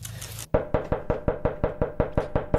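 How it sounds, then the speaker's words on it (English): Firm, evenly spaced knocks on a door, about a dozen hollow raps in quick steady rhythm, close and loud, following a brief burst of noise. "You keep on knocking, but you can't come in."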